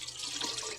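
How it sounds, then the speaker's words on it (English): Water runs and splashes briefly into a metal camping kettle, a soft, close hiss of pouring liquid lasting under a second. "So I'm going to put the same amount of water in this one"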